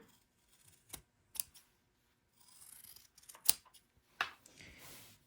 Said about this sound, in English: then trim your corners again